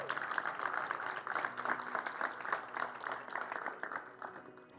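A church congregation applauds, dense rapid clapping from many hands, steady and close, fading slightly at the end.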